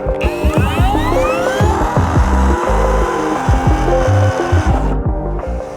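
A Dnipro-M DCR-200BC cordless router cuts into wood, its motor note wavering as the bit bites and grinds in loud, continuous passes before winding down at the end.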